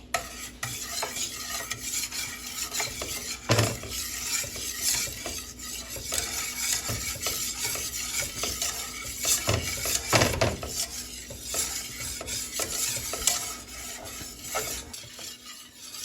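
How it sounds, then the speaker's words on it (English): Smothered beef oxtails sizzle in a pot while a spoon stirs them, with a continuous bubbling hiss broken by several louder scrapes and knocks against the pot. "So you just want to keep stirring until it gets to this point"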